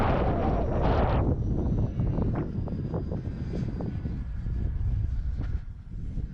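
An E-flite EC 1500 RC plane flies in high wind, its electric motor whining steadily and fairly close, with a loud burst of wind buffeting at the start and gusts rising and falling throughout.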